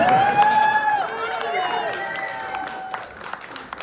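A renewed round of audience clapping at a retirement party, dense at first and fading within a few seconds, with a voice talking over the applause.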